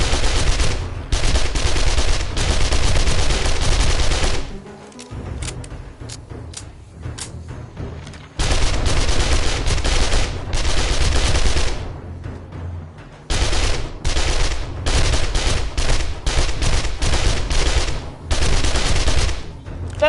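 Rapid AK rifle fire from the zombie game 7 Days to Die on PS5: loud, sustained automatic bursts broken by short pauses, with no talking.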